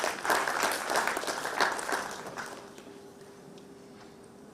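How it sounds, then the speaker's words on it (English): Conference audience in Nigeria applauds warmly, a dense wash of clapping for about two and a half seconds that tapers quickly into quiet room tone. "Can we have a round of applause to him again?"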